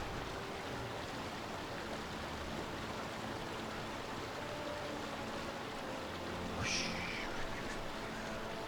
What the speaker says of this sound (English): Flying through this very noisy feature of acid plant. In the form of water running out of a pipe.